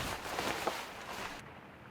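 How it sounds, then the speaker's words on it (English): Heavy rain pouring down on the coast near a camper truck at night, a dense, loud broadband hiss with small spattering hits that cuts off abruptly near the end. "that rain is really coming down"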